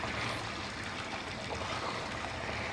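Heavy rain pours steadily on a village home during a storm, water streaming and dripping from the thatched roof in a dense, continuous wash of noise with no talking.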